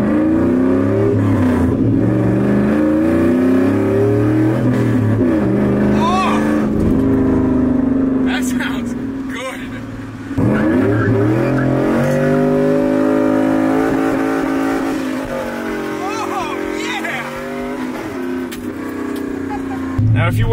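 Chevrolet Silverado with a 5.3 LS V8 and five-speed manual, revving hard in repeated rising and falling sweeps, loud and close, with a voice speaking over parts of it.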